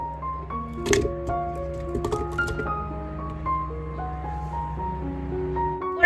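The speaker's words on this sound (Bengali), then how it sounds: "এরপর এই ড্রাগন ফ্রুটটা আমি এর মধ্যে ঢেলে দেবো।" Dragon fruit pieces tipped into a blender mixing jar give a couple of soft, wet squishing plops over steady background music.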